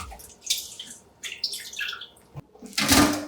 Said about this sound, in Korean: 물을 갈아가며 3번 정도 헹궈서